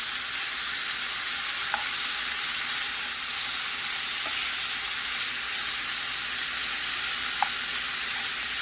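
Shrimp and chopped bell pepper filling for stuffed peppers sizzles steadily in a frying pan. A stirring utensil scrapes through it with a few faint clicks, and no one speaks.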